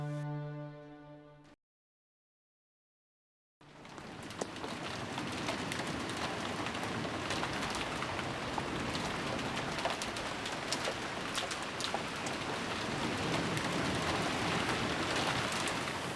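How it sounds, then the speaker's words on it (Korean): Steady rain patters on a window, a dense continuous hiss with scattered taps that follows a short tonal passage and a brief silence. "창문을 두드리는 빗소리가"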